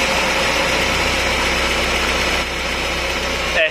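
UAZ 452 van engine idling on a newly fitted SU carburettor, a steady loud close rumble with an even mechanical beat and slight knocking, running alone without talk.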